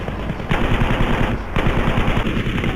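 Rapid machine-gun bursts in the video game Battlefield V, loud and close, two sustained volleys of fast repeating shots with a brief gap between them.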